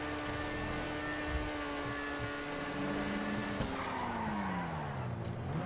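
A fast, loud car in a GTA video game roars continuously with engine whine and tire skidding, its pitch sliding down and back up as it accelerates, alone without talk.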